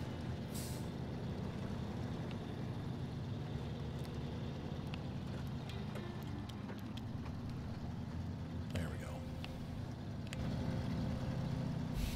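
A heavy truck engine in SnowRunner drones steadily and strains under load at low volume, with occasional air-brake hiss and clanks; no talking.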